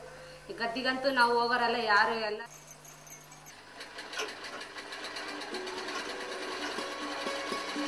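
A sewing machine stitches in a village workshop, a close, quick mechanical whirring and clatter in the second half after a burst of voices and music, with speech over it.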